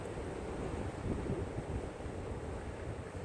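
Waves tumble over a pier on a windy day, a steady, faint rush of surf blended with wind buffeting the microphone, no voices.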